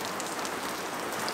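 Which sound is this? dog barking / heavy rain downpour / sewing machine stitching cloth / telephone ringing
heavy rain downpour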